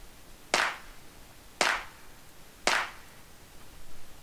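A clap sample from the Tri-Samples 808 Trap Step Pack Volume 2, struck three times at an even, roughly one-second pace, each hit bright, snappy and dry with a fast decay, standing alone.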